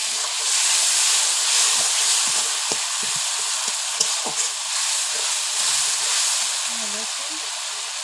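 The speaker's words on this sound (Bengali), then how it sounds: "দেখুন জল দিয়ে দেবো অল্প করে।" Water poured a little at a time into a hot pan of pomfret fish curry, giving a loud, steady sizzling hiss that slowly fades, with scattered bubbling pops and a brief clink.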